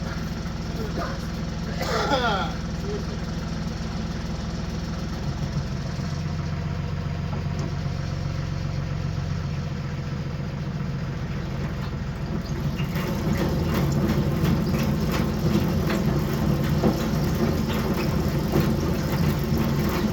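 A snowblower tractor's engine turns over and settles into a steady low idle, a continuous rumble that grows rougher and louder partway through, heard close by without talk.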